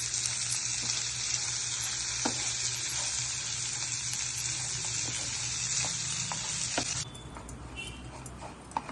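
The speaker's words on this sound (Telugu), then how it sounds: "బాగా ఫ్రై అయ్యేలా వేయించుకోవాలి." Bitter gourd pieces frying in oil in a pan, giving a steady loud sizzle throughout that drops in intensity near the end, with a few clinks and stirring sounds.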